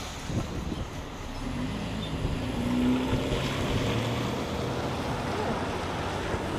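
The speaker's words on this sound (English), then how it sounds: "Oh, it's so windy." Strong wind blows outdoors at a February charity walk in Brighton, Ontario, a steady broadband roar and buffeting across the whole clip with faint voices in the background.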